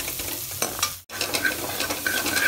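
Tempering for white chickpeas sizzles and crackles in a hot pan as it is stirred and roasted, a steady close frying hiss broken by one very brief dropout and soft scraping of the spoon.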